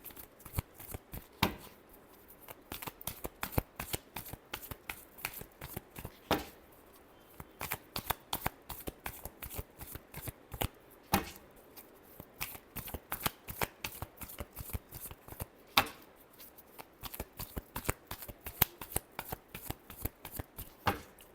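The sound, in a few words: shuffling tarot cards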